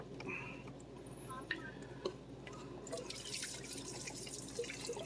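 Coolant trickles and drips out of the thermostat housing on a 2015 Jeep Wrangler Rubicon 3.7L, a faint steady dribble with a few small clicks and taps, quiet and close.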